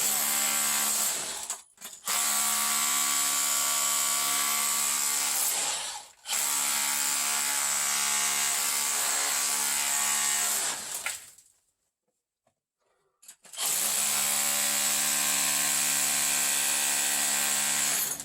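Loud, sustained grinding and chipping against quartz rock deep inside an abandoned gold mine, in three long bursts with a short pause and then a near-silent gap around twelve seconds.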